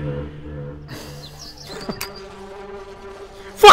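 Bees buzz in the horror game Lakeview Cabin 2, a steady insect drone beneath game music and effects, ending in a sudden loud burst.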